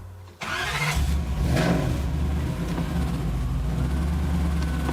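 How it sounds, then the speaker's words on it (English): A Lexus SC400 with a five-speed manual gearbox, started while in gear with the e-brake up: a short cranking burst catches into a steady, fairly loud idle that holds without stalling. "and I start the car,"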